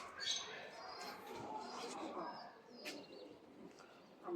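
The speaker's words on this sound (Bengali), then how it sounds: "এখানে আছে কবুতরের ফার্ম।" Pigeons at a pigeon farm beside a rural house, cooing and fluttering in soft, overlapping calls at moderate distance, with quieter rustling between them.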